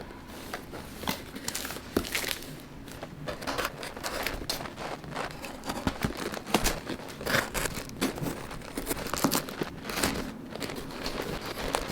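Packing tape being torn and peeled off a heavily taped shipping box for a Yema Superman Black watch, a steady run of crackling, crinkling rips and tears close up with no talking.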